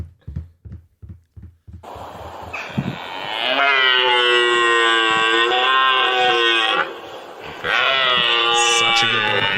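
A red deer stag roars in long, drawn-out bellowing calls, two sustained moaning roars separated by a brief break, loud and close, preceded by a few short grunting breaths.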